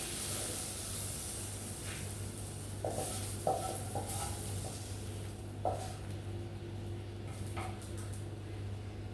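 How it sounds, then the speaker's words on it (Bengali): Curry being reheated in a pan and stirred, with a steady low sizzle and hiss under intermittent scraping and clinking of a utensil against the pan, close and moderately loud, no talking. "একটু তরকারি গরম করে নিলাম।"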